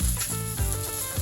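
Small potatoes and peanuts fry in a pan, a loud, dense sizzle close up with rhythmic stirring scrapes every half second or so, no talking.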